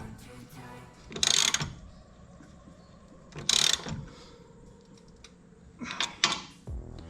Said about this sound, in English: we have all 3 of the body bolts tightened down